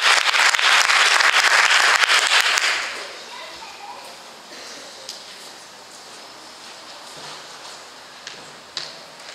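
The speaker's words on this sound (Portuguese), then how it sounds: "Eu queria que os irmãos dessem uma salva de palmas ao Senhor." A church congregation gives a burst of loud, dense applause that runs for a few seconds and then stops abruptly, leaving a quiet hall with a few faint rustles.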